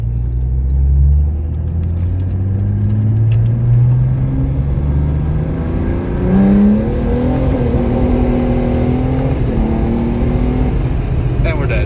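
A diesel car's engine rumbles and climbs through rising tones as it accelerates, loud inside the cabin, with a voice talking over it.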